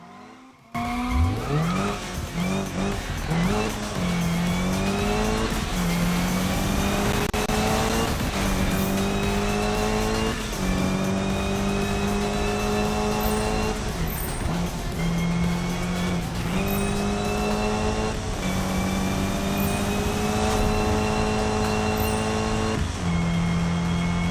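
Racing cars in a Need for Speed sprint race on Xbox One roar continuously at close range, with engines climbing and shifting through gears, tire squeals cutting in, and a steady loud drone throughout with no talk.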